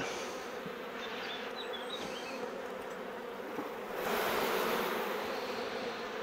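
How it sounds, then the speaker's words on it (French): Dense swarming buzz of many honey bees around an open beehive, a continuous close drone that swells louder toward the end, with no voices. "vu la quantité d'abeilles qu'il y a"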